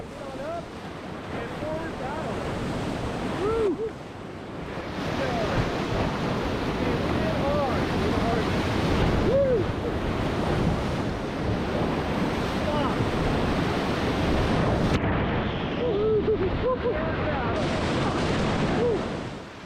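Whitewater raft running its first Class 3 rapid on the Middle Fork American River: a steady, loud roar of rushing water with wind buffeting the microphone, sustained for the whole stretch with brief surges.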